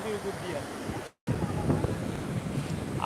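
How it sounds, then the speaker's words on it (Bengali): Big ocean waves break at Digha beach, a broad surging wash mixed with wind buffeting the microphone, with a brief dropout in the middle and faint voices behind. "বড় বড় ঢেউ"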